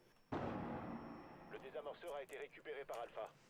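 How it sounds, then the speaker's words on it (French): An impact grenade detonates in Rainbow Six Siege with a sudden loud blast and a rumbling tail, followed by a commentator talking over the fading noise. "On essaie de bait un peu là avec cette grenade à percussion."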